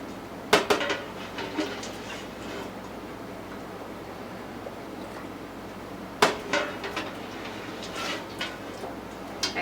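A metal ladle scoops pickle brine with spices from a pot, sounding as sharp clanks against the pot rim at the start and again after a pause, with softer clinks and liquid sloshing between them.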